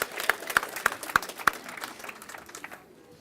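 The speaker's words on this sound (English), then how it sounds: "can we applaud our parents and community for the support they've given us to get you where you are now?" An audience at a 2014 graduation ceremony for a STEM academy in Rochester claps in a short burst, with a few sharp claps standing out before the applause fades away within about three seconds.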